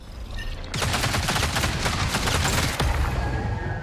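Sustained rapid gunfire erupts in an extraction shooter game, a loud, dense automatic burst lasting several seconds, with no talking.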